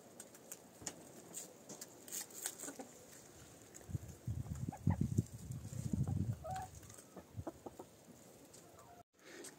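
Hens in a henhouse on a winter day, pecking at snow in place of water, give faint scattered clucks and calls over soft pecking and shuffling, with a denser patch of low patter near the middle.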